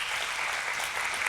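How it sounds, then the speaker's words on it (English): An audience at a regional chamber of commerce monthly meeting claps, a dense, even wash of applause that holds steady the whole time. "So if you give them a round of applause for me."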